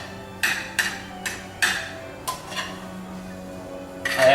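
Sautéed squash, zucchini and red onion are spooned onto a plate with a series of sharp clinks and taps of utensil on pan and dish, six or seven spaced knocks followed by a louder scrape at the end.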